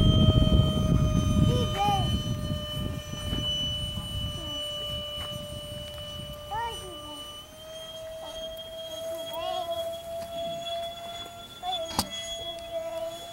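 Ducted-fan whine of an RC model A-10 jet with DPS 72mm RCL fans flying at an RC field in Savannah, Georgia, a steady tonal whir that shifts pitch as it passes, with wind rumble and birdsong over it.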